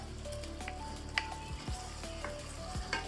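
Fried peas and paneer go into hot oil in a pan for matar paneer, a faint, steady sizzle close by with a few soft splashes and stirring bumps, no talking.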